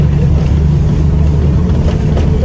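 A bus engine drones loudly and continuously in heavy traffic, with a low, steady rumble and broadband road noise and no distinct revving.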